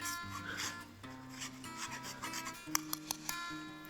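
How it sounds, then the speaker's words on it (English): Fresh ginger rubbed across a small fine grater makes quiet, close rasping scrapes in short repeated strokes, with a few light taps near the end and faint background music. "So I have this cool little ginger grater or zest, lemon zest, orange zest."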